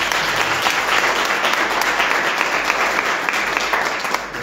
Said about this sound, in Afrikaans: Julle gee nog 'n hande klap vir